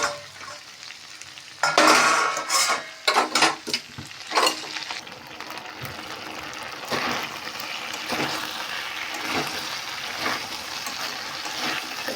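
Chicken meat frying and being stirred in a pan, with bursts of loud scraping and sizzling early on, then a steady crackling sizzle with intermittent stirring strokes, close up and with no talk.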